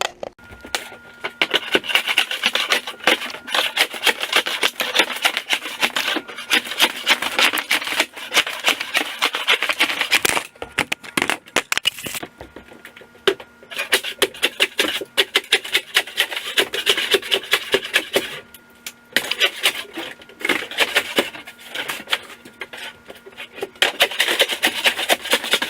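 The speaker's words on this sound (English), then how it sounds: "I'm just going to have to chisel it off" A chisel scraping sticky tile adhesive off a kitchen floor during demolition: steady, close rasping strokes in rapid repeated bursts with brief pauses, fairly quiet and with no talk.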